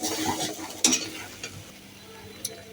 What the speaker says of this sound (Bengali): এখন ভালো করে পেঁয়াজটা ভেজে নিব, যেন গন্ধ না থাকে, কাঁচা কাঁচা গন্ধটা যেন চলে যায়।